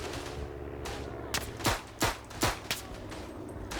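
Rifle and machine-gun fire in the Verdun World War I shooter game, several sharp nearby cracks in an irregular burst over a constant rumble of distant battle.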